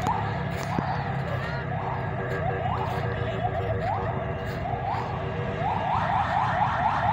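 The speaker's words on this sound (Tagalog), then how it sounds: "Ayan, narinig nyo may wangwang." An emergency vehicle siren wails, rising repeatedly in sweeping cycles, fairly near, over steady traffic rumble on a street by Manila Bay.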